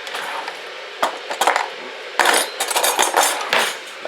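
A fork clinks and scrapes sharply against a dish while semolina fufu is being prepared, in several irregular bursts of metallic taps close by, with no talking.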